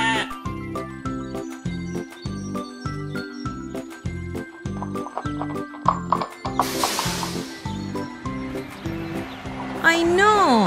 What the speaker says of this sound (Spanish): ¡Córrele, caballito!